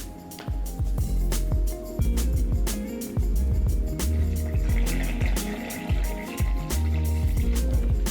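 Water poured into a sourdough bread dough mix of flour at room temperature, 320 to 350 grams of it, with a steady splashy run of liquid and busy knocks and clatter throughout.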